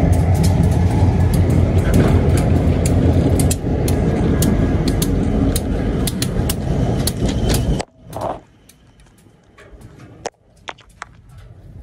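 A Union Pacific train in northern Illinois rumbling loudly and steadily close by, then cutting off abruptly into near quiet broken by a few sharp clicks and knocks.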